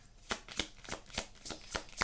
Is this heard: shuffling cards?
yes